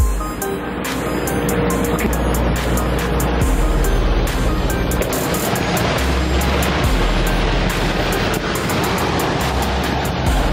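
Steady, dense roar of a 90-foot waterfall into a pond, loud and close, continuous broadband rush with no pauses throughout.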